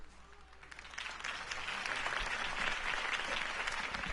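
Crowd applause in the Batman Telltale video game on PS4, swelling up at a political campaign rally for Harvey Dent, steady and dense clapping that grows louder and holds throughout.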